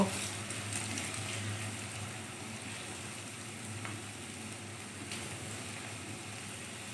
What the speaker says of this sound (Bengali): আর খুন্তি দিয়ে ভালো করে নেড়ে দেব এইভাবে মুচমুচে করে ভেজে তুলব